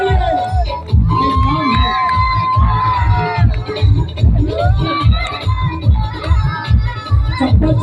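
A crowd at a live stage event cheers, whoops and shouts loudly, with children's voices and rhythmic clapping bursts running throughout, dense and close.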